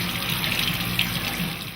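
Rice being washed for Korean radish soup under a running kitchen tap, a steady close splash and rush of water filling the sink, with no voices.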